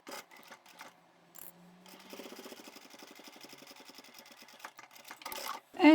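A sewing machine stitching a scrap-fabric cosmetic pouch at a long stitch length, a rapid steady needle chatter running for several seconds, with soft handling clicks at the start and end.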